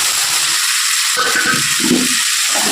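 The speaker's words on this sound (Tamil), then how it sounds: "இப்போ தக்காளி எடுத்து ஊற்றிக்கணும் மிக்சியில் அடித்து வச்சுருக்கேன் இந்த தக்காளி இது கூட ஊற்றிக்கிறேன்" Onions sautéing in oil with blended tomato poured in for a dried-fish oil curry: a loud, steady broadband sizzle and hiss, close up, with a brief bubbling surge as the liquid hits the hot pan.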